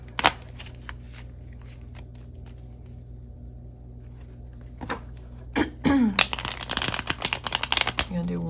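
Scattered card flicks and soft taps, then a burst of rapid riffling shuffles near the end, close by, with occasional throat noises.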